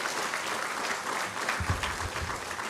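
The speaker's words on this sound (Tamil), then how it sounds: "இதை திட்டமிட்டு செய்த ஆர்கனைசர்களுக்கு நீங்கள் தொடர்ந்து ஒரு நிமிஷம் கைத்தட்டி வாழ்த்தணும்" A seated audience at a world vegetarian festival debate event in Chennai claps for the organisers, giving a dense, steady round of applause that continues evenly throughout with no talk over it.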